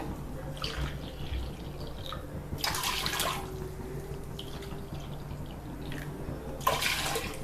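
Milk poured into a pot while cooking a Navaratri rice dish, with ghee already added to stop sticking; a steady soft liquid splashing and trickling runs throughout, swelling into louder gushes around three seconds and again near the end.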